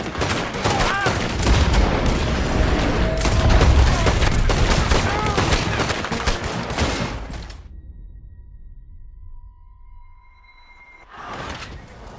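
A rapid, loud burst of gunfire crackles in a Red Dead Redemption 2 shootout, with dense overlapping shots for about seven seconds, then quiet with faint tones and a final short burst.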